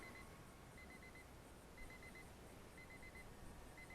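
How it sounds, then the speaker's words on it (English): An RC flight timer for an Eachine Mini Cessna 550mm plane beeps in short, evenly spaced high bursts of several quick pips, faint against a steady wind-like rush outdoors. "And there's my timer."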